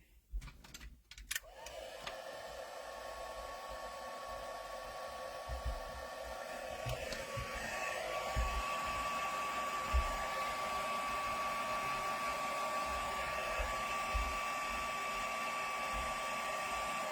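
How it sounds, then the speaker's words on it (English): A handheld heat tool blows steadily to set stencil paste during crafting, a continuous whirring hiss that starts after a few clicks and handling noises and runs unbroken at close range, with a thin whine rising in partway through. "I'm just going to heat set that"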